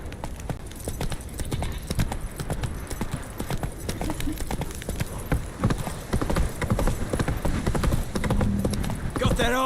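Roach the horse gallops in the video game The Witcher 3: Wild Hunt, a fast, steady drumming of hoofbeats that runs throughout, loud and close, with speech over the top and a brief whinny-like sound near the end.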